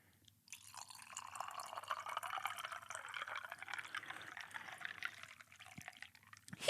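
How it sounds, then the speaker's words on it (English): Liquid pouring steadily into a quirky novelty mug, a continuous close trickling splash lasting several seconds before a brief louder knock at the end. "YouTubers pouring liquids into weird, funky mugs"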